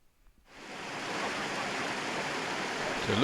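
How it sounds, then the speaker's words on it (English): Waterfalls on a moorland stream rush as a dense, steady roar. The sound swells in after a brief quiet start and then holds constant. "So looking back at the waterfalls"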